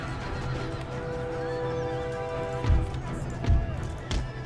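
A horse neighs in the Empire Total War battle game, with whinnies and galloping hooves over a dense, continuous battle din and a few heavy thuds near the end.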